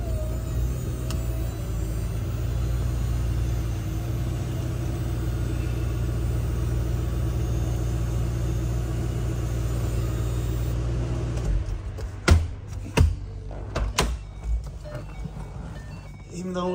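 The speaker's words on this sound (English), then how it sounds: "I don't like to keep a car running" A low-mileage 2010 Ford Mustang GT premium convertible idles steadily inside a vented garage, a deep even rumble for about eleven seconds, followed by a few sharp clicks and thumps near the end.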